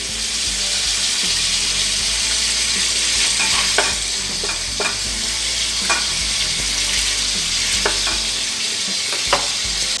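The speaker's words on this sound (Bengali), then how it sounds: "5 মিনিট হয়ে গেছে, আমি এবার মাংসগুলোকে প্যান থেকে তুলে নিচ্ছি।" Chicken pieces frying in a pan over a medium gas flame keep up a loud, steady sizzle, broken by occasional sharp clicks and scrapes of a utensil.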